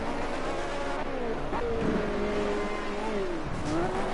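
A Cosworth race car on a racing circuit, its engine droning and revving with shifting pitch as it slides around the track, loud and steady throughout with no voices.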